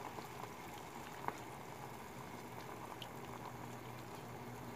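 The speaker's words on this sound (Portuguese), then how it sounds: "Começou a ferver, agora vamos aguardar o chá pegar a cor." Water with orange peel bubbles at a steady rolling boil in a pot for orange tea, a constant low churning with small pops, close by and alone.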